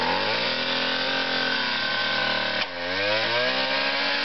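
A small gasoline engine on a motorized bike runs with a steady, loud, buzzing drone. Its pitch dips sharply partway through and then recovers.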